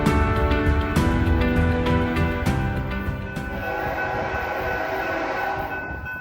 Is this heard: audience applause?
no